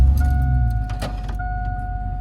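A 2000 Chevrolet Silverado truck with a muffler delete and a failing 4L60E transmission rumbles with a deep, loud idle heard from inside the cab, joined by a couple of brief clicks.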